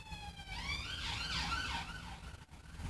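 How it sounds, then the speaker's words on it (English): An emergency siren wails past on a busy road, its rising and falling tone sweeping up, peaking and then fading over steady traffic rumble. "just wait for that siren to pass"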